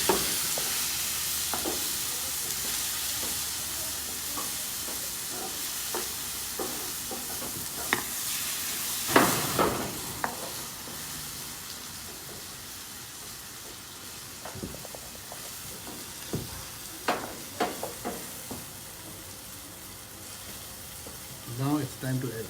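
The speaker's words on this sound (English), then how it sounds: "giving it a good mix." Vegetables are stirred in a spoonful of clarified butter for baingan bharta, with the char-grilled aubergine mix sizzling steadily and a spoon or spatula scraping and clinking close by, louder at intervals.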